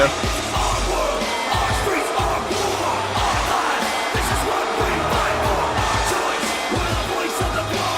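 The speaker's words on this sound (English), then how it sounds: "But this crowd are booing" A hometown arena crowd at a CXWI Hyperlink 2014 wrestling show boos in a loud, steady wash of voices for the whole stretch, with no single voice standing out.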